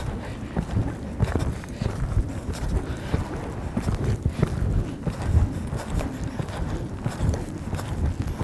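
Hooves of a dressage horse during a riding session with flying tempi changes sound as a steady rhythmic clip-clop on an arena surface, close and moderately loud, with some wind rumble.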